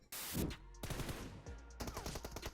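Gunfire in PUBG: a sharp burst of rapid automatic shots, then a gap and another stuttering volley of quick repeated bangs, fairly close and loud against near silence.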